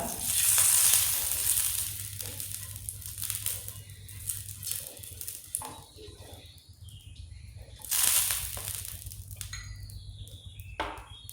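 Aloo paratha frying in ghee on a chapati griddle, a close crackling sizzle that swells loudly twice and fades between, with stirring and scraping noises and a voice talking over parts of it.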